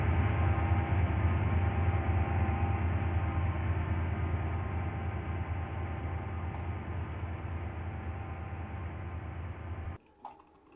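In the Stepford County Railway video game, a train approaches a platform with a steady, loud rolling rumble and hum that cuts off abruptly near the end.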